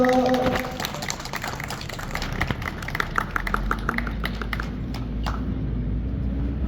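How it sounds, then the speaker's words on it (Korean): Applause from a crowd at an outdoor local farmers' market opening ceremony in Chuncheon, a dense patter of clapping that continues steadily throughout, with a low rumble of background noise underneath. "큰 박수 부탁드립니다."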